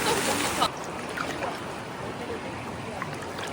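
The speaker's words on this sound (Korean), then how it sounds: "그리고 파도가 세." Strong surf rolls in at An Bang beach near Hoi An, a steady broadband roar of breaking water that is loudest in the first moment, then settles into a continuous wash.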